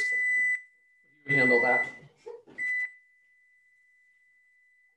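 A kitchen timer goes off while a Thai basil stir fry is being cooked. It gives two short bursts of bright, high beeping, and a person speaks briefly between them.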